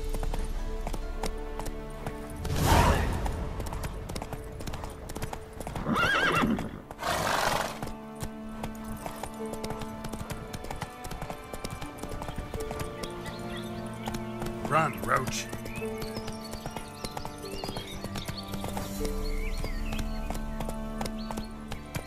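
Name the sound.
horse galloping and neighing in the video game The Witcher 3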